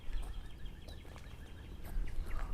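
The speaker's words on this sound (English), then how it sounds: "all you hear are birds." Faint birds chirping in the distance over a low outdoor rumble, with a few scattered calls standing out near the end.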